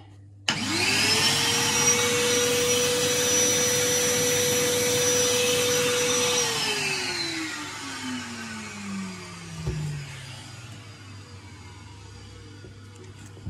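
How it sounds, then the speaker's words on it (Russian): A vacuum cleaner motor starts abruptly, set to blow, pushing water out of a pipe; runs at a steady high whine, then winds down with a falling pitch, followed by faint rattles and knocks. "вы можете с помощью пылесоса сделать на выдув и выдуть воду"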